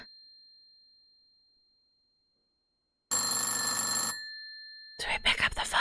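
A telephone in the Centum video game rings in one loud burst of about a second, with a faint electronic tone lingering before and after, then other game sounds follow.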